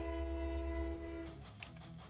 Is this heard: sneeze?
no